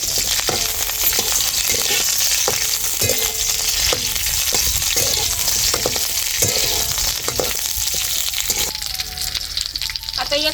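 Drumstick pods (moringa) sizzle and fry in hot oil in a wok, with a steady crackling hiss and periodic stirring scrapes and clanks of a spoon against the pan, close and continuous.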